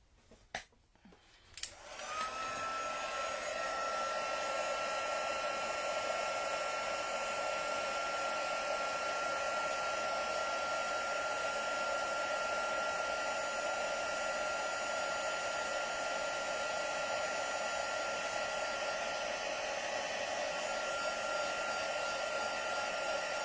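A heat tool blowing hot air to melt embossing powder on a stamped card starts after a couple of brief clicks, then roars steadily with a whining, fan-like hiss, close and continuous.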